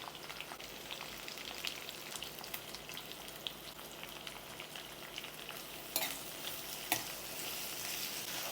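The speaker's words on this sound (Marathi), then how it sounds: "कांदा चांगला परतून घ्यायचा आपल्याला, त्याला हलकासा ब्राऊन रंग येईपर्यंत." Sliced onions with whole spices such as cardamom fry in hot oil, giving a continuous soft sizzle like light rain, with a couple of sharper spatula scrapes near the end and no voices.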